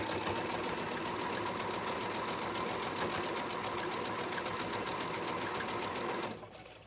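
A quilter's sewing machine runs steadily at a fast, even stitching rhythm for several seconds, close and mechanical, then stops abruptly; no voices.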